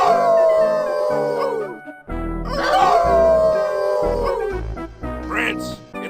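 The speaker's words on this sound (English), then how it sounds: "Hey, everyone, how about a good group howl?" Group howl in the video game Inherit the Earth, several long, loud, wavering animal howls rising and falling over game music, one after another with a brief break between them.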